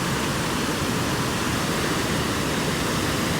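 Water rushes hard and steadily over the Unnichai tank spillway in Batticaloa during an unexpected rise in water level, a loud, dense, continuous roar that holds evenly throughout with no voices.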